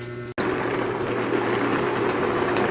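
Coconut milk broth simmers for ginataang sitaw at kalabasa, a steady close bubbling hiss that follows a short break near the start.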